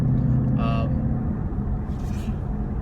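A 2015-18 Ford Mustang idling with a Borla ATAK exhaust, heard from inside the car as a steady, low, droning rumble, with a brief voice partway through.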